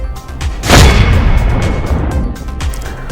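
Firecrackers burst at an outdoor street celebration of a BJP election win in Gorakhpur, a loud sharp bang followed by dense crackling pops and rumbling echoes that continue steadily to the end.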